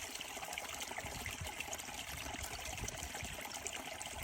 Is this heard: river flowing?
yes